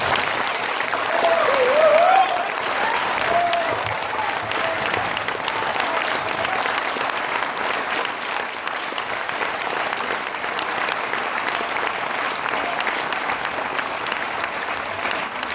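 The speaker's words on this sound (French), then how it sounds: "vous pouvez les applaudir très très chaleureusement" A concert audience applauding a wind band, dense sustained clapping from a large crowd that fills the whole stretch at an even, loud level, with a brief voice near the start.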